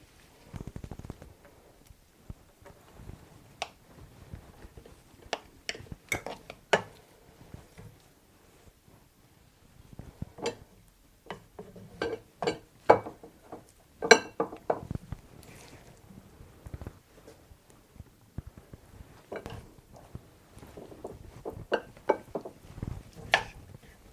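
Noodles being stirred into the sauce of a tuna casserole in a dish. Faint, sparse clinks, scrapes and taps of the spoon come at irregular intervals over a quiet background, with no talking.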